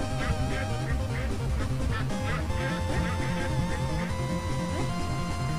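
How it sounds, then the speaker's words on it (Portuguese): Cartoonish duck quacks repeat in the Legend of the Brofist mobile platform game, layered over continuous game music and sound effects with a steady, loud level throughout. "Eita, o pato."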